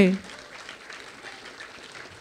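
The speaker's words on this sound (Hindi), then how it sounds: "मुझे और तालियां चाहिए वो तालियों की गूंज चाहिए" A crowd applauds at a DXN marketing leadership event in Mumbai, a faint, even patter of many hands continuing steadily after a loud voice cuts off at the start.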